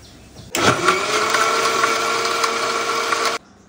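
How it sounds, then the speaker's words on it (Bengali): Electric blender running on mango shake with cold water and mint leaves, a loud steady whirring motor that starts abruptly, holds for about three seconds, then cuts off. "এখন এটা ব্লেন্ডার করে নিব।"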